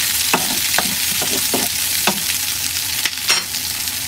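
A utensil scraping and stirring diced potatoes and luncheon meat in a pan, with a few distinct scrapes and taps over a constant loud sizzle of frying.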